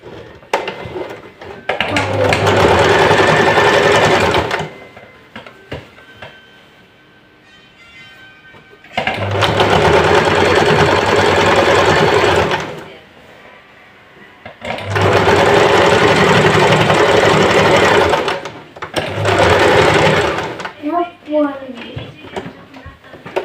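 A sewing machine stitches strips of patchwork fabric in three long bursts of steady, loud mechanical whirring, with a short fourth run and quiet pauses where someone speaks between them.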